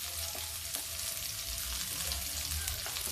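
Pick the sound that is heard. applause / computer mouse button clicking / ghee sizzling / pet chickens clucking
ghee sizzling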